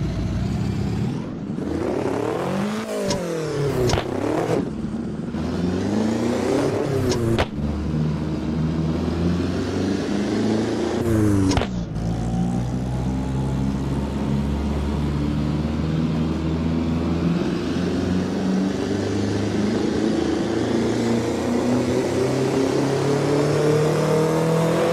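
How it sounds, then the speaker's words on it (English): A naturally aspirated car engine revs hard on a dyno run in the Assetto Corsa driving game, climbing steadily in pitch through the gears with brief lifts, loud and close, no talking. "let's try our first dyno run and gather some reference numbers."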